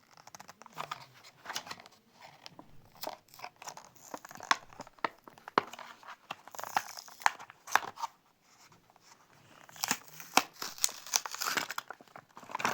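A packaged toy model car, a Land Rover, being unboxed: close, irregular crinkling and tearing of packaging with sharp crackles and a brief pause, no talking.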